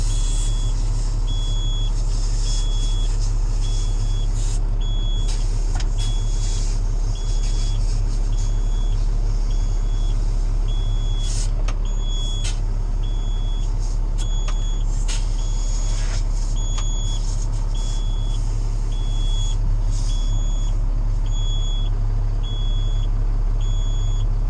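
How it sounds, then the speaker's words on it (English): A tandem truck idles with a steady low engine rumble while its reversing alarm beeps in an even repeating pattern throughout, with occasional clanks and knocks nearby. "So this truck's a tandem"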